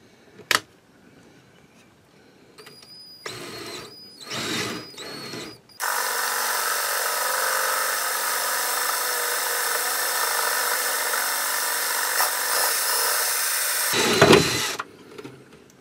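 A drill with an 8 mm bit bores into the plastic case of an Xbox One, a few short bursts first, then one long steady whine of about eight seconds, loud and close, before stopping.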